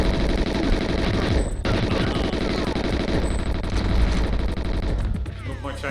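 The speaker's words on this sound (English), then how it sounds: "They're coming upwards. Alright, I will just shoot them." Dense, continuous gunfire in GoldenEye on Xbox Live Arcade, a loud sustained fusillade of rapid shots filling the whole stretch and easing off near the end.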